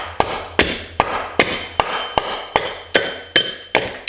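A freshly sharpened side axe makes planing cuts on wood, a steady series of about ten sharp chopping thwacks in an even rhythm roughly every 0.4 seconds, close and loud.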